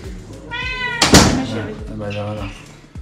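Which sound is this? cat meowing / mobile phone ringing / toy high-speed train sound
cat meowing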